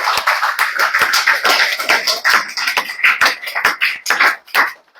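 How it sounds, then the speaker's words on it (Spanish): Rhythmic applause from a church congregation during a Sunday Spanish-language service, loud and close, in steady clap bursts that thin out near the end. "Un aplauso al Señor, que es digno de ser alabado."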